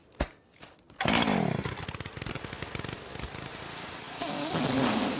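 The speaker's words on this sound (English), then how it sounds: "He's vacuuming up the leaves." A cartoon park keeper's leaf vacuum starts with a few sharp knocks, then runs as a loud buzzing, chainsaw-like motor drone with rapid pulsing that swells again toward the end.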